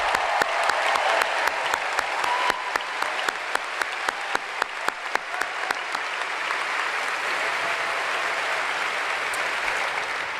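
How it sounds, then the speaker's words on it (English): Steady applause from a large high school graduation audience, continuous and even throughout, with a few sharper individual claps standing out. "Will everyone please join me in a huge round of applause for the class of 2025."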